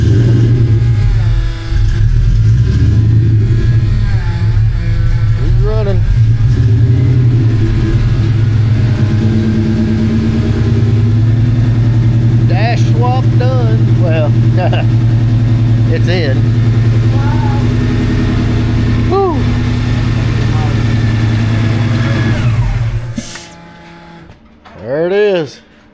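A pump runs with a loud, steady mechanical drone and whine, then cuts off near the end while people talk over it.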